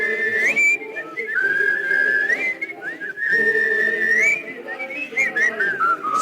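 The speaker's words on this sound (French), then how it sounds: "au refrain, et tâchez de siffler fort, et juste, fort surtout" Several men whistling a tune together in chorus, loud and close, a bright wavering melody in two long phrases with short breaks, no speech.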